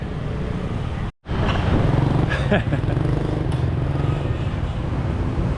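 Steady motorcycle and traffic noise on a busy Hanoi street, a continuous close engine drone with passing bikes, briefly cut out near the start.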